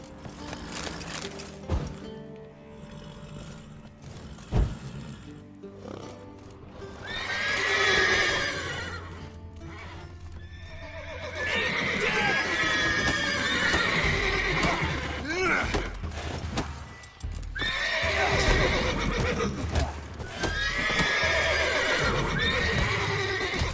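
Horses in The Witcher 3 on Xbox One X whinny loudly several times over scattered hoof clip-clops and game ambience, the neighs rising and falling in repeated bursts close by.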